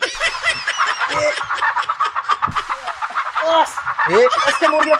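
Loud, close chicken clucking and squawking in agitated bursts, with several birds calling over one another.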